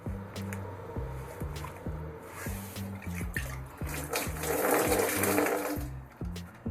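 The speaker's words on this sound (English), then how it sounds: "I'm gonna have to pick up that left water in the tank with some sponge so it won't spill on the floor" A sponge is squeezed and pressed to soak up leftover water in a toilet tank, giving rhythmic wet squishing and dripping sounds close by, repeating steadily.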